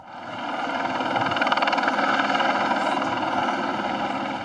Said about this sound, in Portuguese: Helicópteros da Polícia Federal sobrevoaram a Praça dos Três Poderes durante toda a manhã.